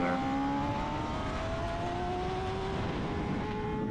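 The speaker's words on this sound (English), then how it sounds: "start to really like spin up the bike and get some speed coming out the corner there" A SuperStock 600 race motorcycle accelerates hard out of a corner at NOLA Motorsports Park, its engine note climbing steadily in a continuous loud whine, with wind roar and other bikes' engines droning alongside.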